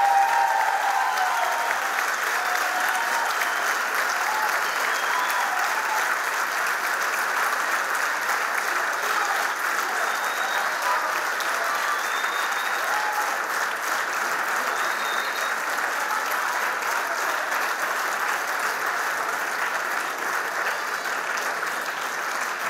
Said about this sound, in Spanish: fuerte también el aplauso